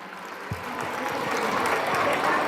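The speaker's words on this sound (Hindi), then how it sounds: "तालियां, जोरदार तालियां स्कूल के लिए" A crowd at a school function gives loud applause, a thick, continuous roar of clapping that swells slightly as it goes on.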